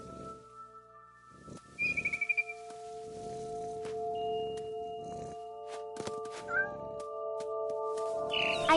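A cat in The Sims 4 meows several times amid steady game tones and chirps, a short rapid burst of calls standing out early, with further faint mews and bird-like chirps later.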